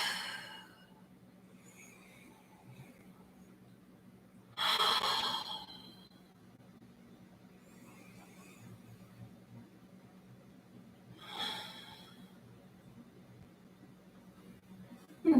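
Slow breaths taken while holding a seated yoga twist, quiet and close, with a couple of louder exhales spaced several seconds apart over a faint steady hum.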